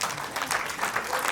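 Church congregation applauding briefly during a sermon, a short burst of scattered hand claps in a reverberant hall at moderate loudness.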